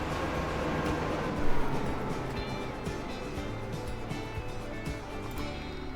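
A push-pull train rolling along in the Transport Fever 2 game, a continuous dense rumble of wheels and engine with faint clatter, steady and fairly loud.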